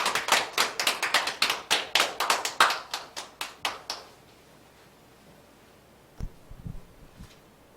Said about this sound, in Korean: 격려의 박수를.